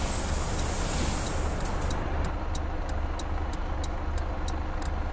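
A bus in Bus Driver Simulator video game pulls away, its engine a steady low rumble with a high-pitched ticking indicator repeating evenly over it, no voices.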